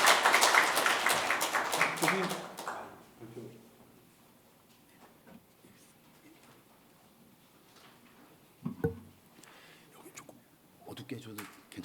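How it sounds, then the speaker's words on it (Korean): Loud audience applause at a policy seminar on suicide prevention held at the National Assembly, a burst of clapping that fades after a couple of seconds into quiet room sounds, brief talk and a few scattered bumps. "큰 박수 부탁드리겠습니다."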